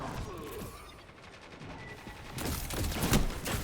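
Shotgun fire in the video game Destiny 2, with heavy blasts and crashing bursts over a dense, noisy game soundscape that swells louder toward the end.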